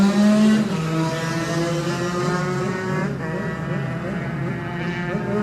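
A Yamaha racing motorcycle in a Classic TT lightweight race roars past close by on a road course, its throaty, harmonic-rich engine note falling in pitch as it goes away, then rising again briefly as the rider accelerates.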